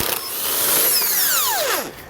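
A power tool with an 18mm socket spins out a bolt holding a truck's front bumper, a loud steady whir lasting about two seconds before it winds down at the end.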